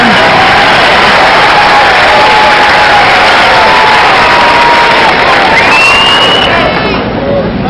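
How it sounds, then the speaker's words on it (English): A tennis crowd at the 1994 US Open cheers and applauds in a dense roar of clapping and voices, with commentary over the top. "Crowd getting into it with him."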